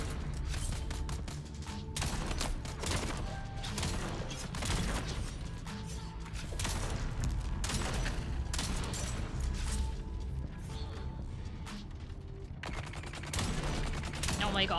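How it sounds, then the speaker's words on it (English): Rapid gunfire bursts from the Dune Awakening video game crackle repeatedly at moderate level, with players talking faintly underneath. "just start shooting"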